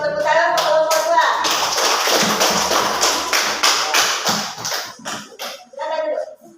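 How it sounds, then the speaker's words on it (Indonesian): A classroom group gives a burst of applause, dense clapping for several seconds that thins out as a few voices murmur and talk around it. "Tepuk tangan untuk kelompok 2."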